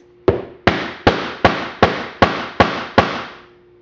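Hammer striking a metal setter to fasten a grounding rivet with a washer through a shoe, seven sharp, evenly spaced blows with short ringing decays, close and loud with no talking.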